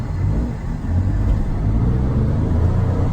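A 1990 Mitsubishi MiniCab kei van with a 5-speed drives along, its engine a steady low rumble with road and cabin noise filling the interior, no talking.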